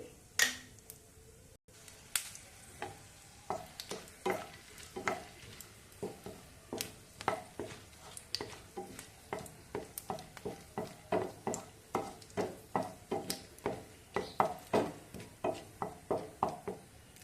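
Cardamom, cinnamon, clove, black pepper and mace sizzle in hot oil with a steady run of quick crackles and pops, close and fairly quiet, with light clinks of a utensil in the pan and no voices.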